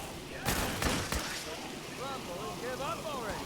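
Rapid bursts of gunfire in the video game Fallout 4 ring out at mid-distance, a quick cluster of sharp shots followed by quieter chirping and whooshing game sounds.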